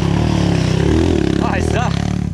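Trail motorcycle engine revving at a trail riders' gathering in Bom Retiro do Sul, RS, a loud, steady, close drone with a voice talking over it.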